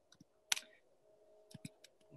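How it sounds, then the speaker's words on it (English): Light typing on a computer keyboard, a few scattered crisp clicks and taps in small clusters, fairly close and quiet with no talking. "I can't talk while I am typing, so I'm writing out my website."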